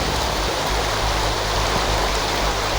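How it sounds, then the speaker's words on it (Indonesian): A flood-swollen river carrying heavy debris rushes past close by, a loud, dense, unbroken roar with no voices over it. "ini sungai"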